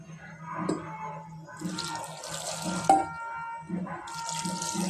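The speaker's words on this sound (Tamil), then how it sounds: "இப்போது எவ்வளோ தண்ணி வேணுமோ தேவையான அளவு தண்ணி ஊற்றிக்கோங்க." Water poured into a pot while making sambar, a steady trickling splash with brief drips, moderately close and fairly quiet, with faint background noise and no talk.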